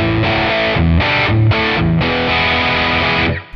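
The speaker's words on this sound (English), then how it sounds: "Distortion." A heavily distorted electric guitar through a NUX Cerberus distortion pedal plays loud, sustained chords with a few quick changes, then cuts off near the end.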